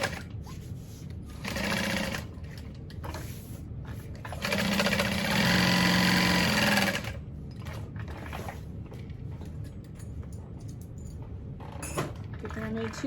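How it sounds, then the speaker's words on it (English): A sewing machine stitches seams on a fabric tote bag in short loud whirring bursts, the longest lasting about three seconds, separated by quieter pauses with occasional soft talk. "I'm going to sew up. To create that division and across."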